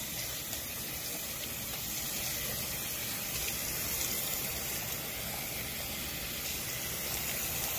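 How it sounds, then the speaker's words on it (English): Tap water runs steadily into a sink while a cotton face mask is rinsed, a soft continuous splashing gush with no pauses or voices. "Rinse it really good."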